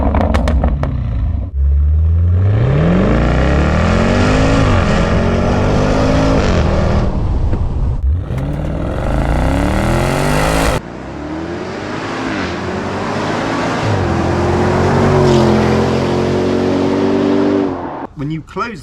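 A Land Rover Defender V8 fitted with a QuickSilver exhaust, resonated centre box and H-pipe revs repeatedly, loud and close, its deep engine note rising and falling in several sweeping pulls, with speech over parts.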